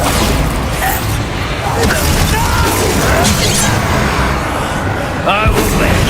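A Bombarda spell blast in the Hogwarts Legacy video game, a booming crash set within a dense, continuous wash of game sound effects and background noise, with a voice talking over it.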